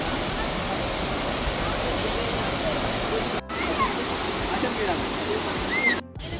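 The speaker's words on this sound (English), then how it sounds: "Here is the waterfall." A steady, broad rush of falling water from a waterfall in Nainital, in drizzling rain, fills the scene, constant and close, with a brief cut or two in the sound.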